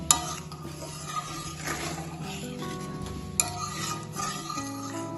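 Dal with fried bitter gourd, stems, salt, turmeric and cumin powder being stirred together in a pot, a continuous scraping stir with light metallic clinks and a low steady hum underneath.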